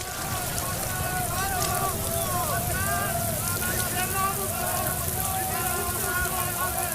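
Rain pours steadily with a dense hiss during a temple fire, while distressed voices wail and call out over the constant downpour.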